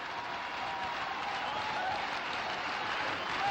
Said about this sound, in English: The crowd electrified.